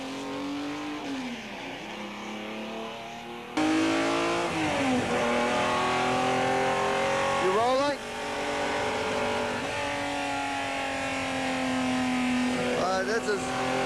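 A Ferrari 250 LM race car lapping Laguna Seca raceway, its engine revving up and down through gear changes and corners, loud and close throughout, with a driver's voice commenting over the engine.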